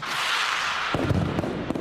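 Fireworks going off over a bay at night, a few muffled booms and crackling bursts arriving after a steady hiss, moderately distant.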